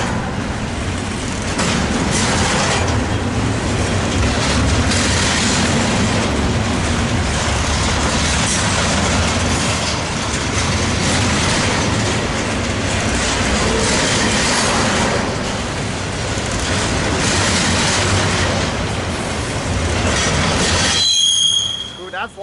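Metrolink 622 commuter train passing at a rail crossing, a loud continuous rumble with wheel squeal and clatter that fills the scene for about twenty seconds before cutting off abruptly.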